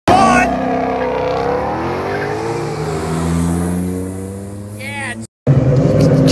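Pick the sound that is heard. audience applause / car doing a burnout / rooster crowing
car doing a burnout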